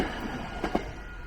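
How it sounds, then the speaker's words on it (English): A train in the Train Sim World 2 game rushes across a level crossing in Kandala, a northern suburb of Wellington, a low, fairly quiet rolling rumble with two short clanks close together near the middle. "a train going fast across the crossing, and some crossing barriers coming down"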